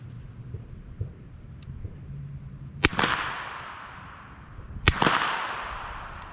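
Two suppressed supersonic rifle rounds fire through a SilencerCo suppressor outdoors, each a sharp crack followed by a rolling echo, spaced about two seconds apart over faint background noise.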